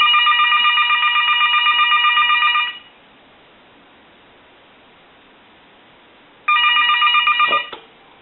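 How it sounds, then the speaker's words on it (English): A French style desk telephone under repair rings in two loud, close electronic bell bursts separated by a few seconds of silence, the second cut short. "Now what we'll do is we'll ring it one more time."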